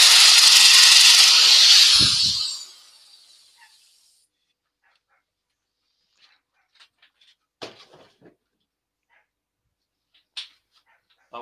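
A small white dog barks outdoors, faint and distant. The sparse, isolated yaps follow a loud hissing burst at the start.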